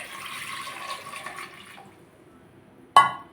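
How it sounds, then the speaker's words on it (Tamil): Water poured into a pressure cooker holding three potatoes, a splashing, trickling stream for about two seconds that trails off into quiet, then a short sharp clatter at the end. "தேவையான அளவு தண்ணி ஊற்றிக்கோங்க."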